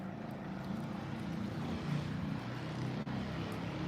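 A faint, distant motorcycle engine hum drones steadily in the background as it passes far off, with no talking.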